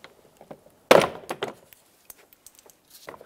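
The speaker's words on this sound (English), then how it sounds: "Next, I'm going to pry from the bottom of the door panel." Plastic clips popping loose as a door panel is pried off a 2003-09 Toyota 4Runner, with one loud snapping thunk followed by scattered smaller clicks and rattles up close.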